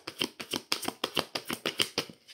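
Tarot cards being shuffled and drawn, a close, crisp series of about a dozen evenly spaced riffling flicks and slaps in a quick steady rhythm, with no talking.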